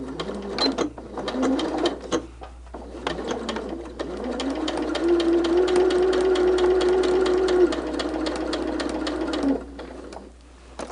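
A sewing machine stitches a stained glass quilt top close to the line, running in short bursts before a long steady whirring run of rapid needle clatter, then stopping.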